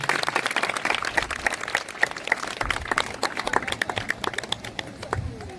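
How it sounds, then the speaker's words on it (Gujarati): A village audience at a student felicitation ceremony applauds an honoured student, steady scattered clapping from many hands at moderate distance, continuing throughout with little speech. "આપણે એમને તાળીઓથી વધાવતા રહીશું"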